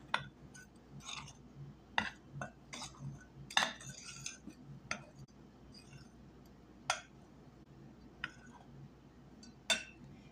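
A utensil mixing flour and salt in a bowl for pie crust dough gives irregular clinks and scrapes against the bowl, close and fairly quiet, with short bursts spread through the whole stretch.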